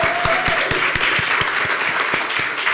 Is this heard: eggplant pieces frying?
no